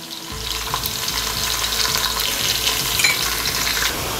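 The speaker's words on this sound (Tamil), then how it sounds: "வெங்காயம் வந்து ஒரு பக்கம் நல்லா வதங்கிட்டுருக்கு" Onions sauté in a pan for prawn biryani, giving a steady, dense sizzle and crackle that stays close and even throughout, with light stirring underneath.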